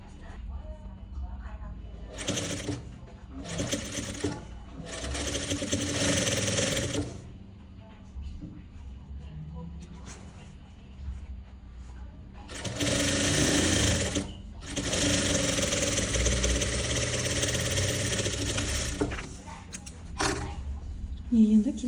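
A sewing machine stitches vest pieces together along a 1 cm seam, running in several bursts of a few seconds each with short pauses between, while someone talks during the gaps.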